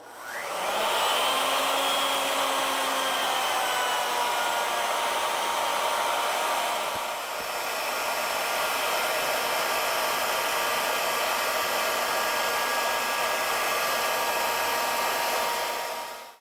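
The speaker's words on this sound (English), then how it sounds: "slide the router in and put a little pressure back against the template as we cut it from the tailstock towards the headstock end" A router cuts stock along a template on an ornamental lathe, moving from the tailstock toward the headstock end, a loud steady whining motor roar with a brief dip midway, held alone for the whole stretch.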